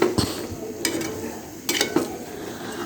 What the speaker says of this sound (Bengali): এখন আমি ভালো করে গোস্তগুলা নেড়ে দেব।